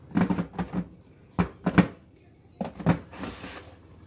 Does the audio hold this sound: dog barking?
no